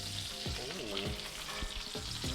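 A ribeye steak sizzles hard in a cast iron pan, a steady loud frying hiss with scattered pops and a few scraping, clattering touches as the meat is moved and flipped.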